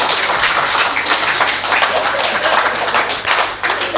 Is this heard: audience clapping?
yes